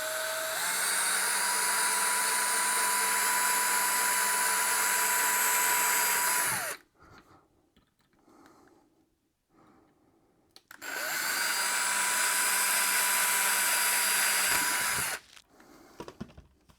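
A power drill whirs loudly in two sustained bursts of about six and four seconds, separated by a quiet pause with faint handling noises.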